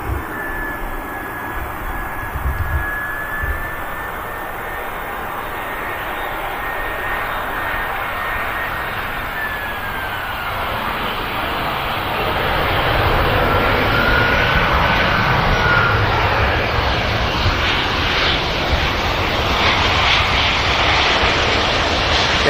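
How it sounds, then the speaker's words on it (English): A fixed-wing airliner landing at Manchester Airport, with a steady loud engine roar and a descending whine that swells slightly toward the end, heard alone without talk. "Next aircraft in, Brussels."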